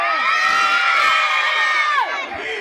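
Crowd of children in an audience at a public event promoting a Chhattisgarhi film, shouting and cheering together in loud, high-pitched whoops and yells that swell and then taper off slightly.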